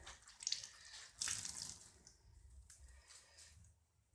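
Water poured out of a hunting boot, a faint close splashing and trickling that comes in a couple of short gushes and then drains away, with no talking.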